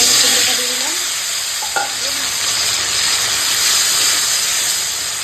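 Pumpkin pieces frying in hot oil for a vegetarian Bengali meal, a loud continuous hissing sizzle with a brief clatter of stirring partway through, no voices.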